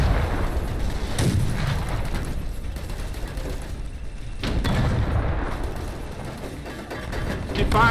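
Howitzer artillery fire in the game Fallout: The Frontier, heavy booming blasts recurring every few seconds with sustained rumbling wash between them, loud and close.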